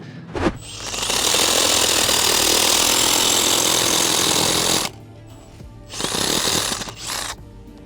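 A handheld power saw, used by a US long-haul truck driver at a roadside stop, cuts continuously at close range for about four seconds, falls silent, then runs again in two shorter bursts.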